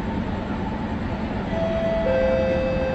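A Kawasaki & CRRC Sifang C151B metro train on Singapore's North-South Line rumbles in close by, with a rising electric whine and a steady tonal hum as it slows at the platform.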